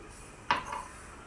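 A metal idli steamer vessel set down in a kitchen, one sharp clank with a short ringing tail, fairly quiet and otherwise still.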